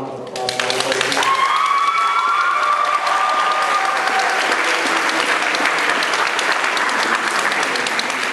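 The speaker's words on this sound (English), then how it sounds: "So how about a round of applause for everybody?" An audience at a school district gathering breaks into applause, with dense, sustained clapping that swells quickly and stays loud and even throughout.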